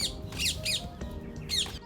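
Wild parrots in London squawking in harsh, shrill bursts, four or five loud calls in an uneven rhythm, close by and heard alone without talking.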